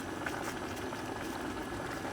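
Covered pot of water simmering with artichokes inside, giving a steady low bubbling and steaming hiss that stays even and fairly quiet throughout, close by, with no voices.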